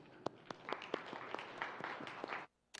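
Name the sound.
audience applause at a symposium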